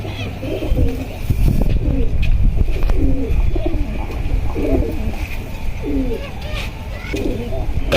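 Old-breed working-line pigeons coo repeatedly in a home loft, rolling calls recurring every second or so over a steady low rumble, with a voice talking intermittently.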